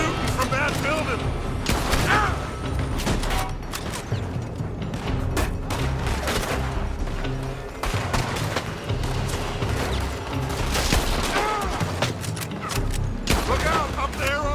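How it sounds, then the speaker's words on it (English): Rapid gunfire pours from a building in a Red Dead Redemption 2 shootout, loud overlapping shots and bursts running almost without pause, with shouting voices mixed into the fray. "They're shooting from that building!"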